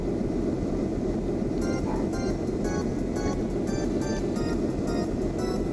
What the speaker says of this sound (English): What the sound of an airship engine?